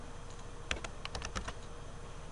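Quiet typing on a computer keyboard, a short cluster of light key taps lasting under a second over a faint background hiss.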